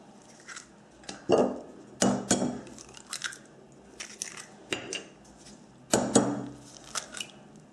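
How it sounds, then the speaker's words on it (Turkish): Eggs for an oil-free cake are cracked against a bowl one after another, sharp close taps and crunches followed by shell rustling and light clinks, in an irregular series. "Yumurtalarımızı kırıyoruz"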